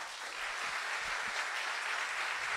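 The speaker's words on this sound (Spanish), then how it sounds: "Fuertes los aplausos" An audience at a motivational talk applauds in a steady, even wash of clapping. It is fairly faint and continuous, with no voices over it.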